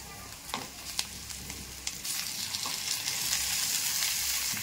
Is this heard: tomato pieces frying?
yes